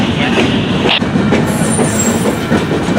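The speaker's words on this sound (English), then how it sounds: "here comes the end of the train" Norfolk Southern freight train NS 8883 rolling past nearby, loud steady rumble and clatter of wagons with brief wheel squeal.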